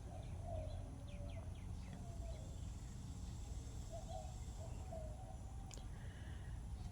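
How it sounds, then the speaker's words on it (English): Birds chirp and call around backyard feeders on the Texas Gulf Coast, short faint tweets scattered over a steady outdoor hum, with no one talking. "You can hear the birds. They come in and feed at the bird feeders."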